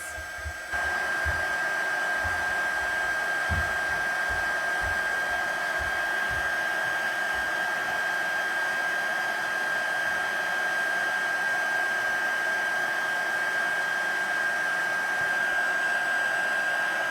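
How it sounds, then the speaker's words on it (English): A heat tool blows steadily for heat embossing on paper craft, a loud, continuous hissing whir with a constant high whine, and a few soft knocks near the start. "I'm just going to heat emboss this."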